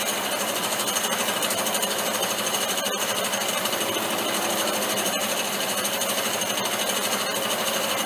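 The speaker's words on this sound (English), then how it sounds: "We've gone through the cast iron of the dividing head base, so into the steel now." A milling machine cuts through a cast iron dividing head base into the steel beneath, giving a loud, continuous chattering grind with a few sharp ticks and no talking.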